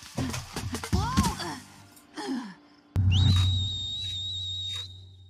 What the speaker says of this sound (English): Know you could whistle like that